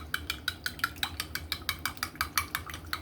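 A utensil stirs a custard mixture for strawberry ice cream, clinking against the bowl in a quick, steady rhythm of about a dozen light strokes, close and fairly clear, with no talking.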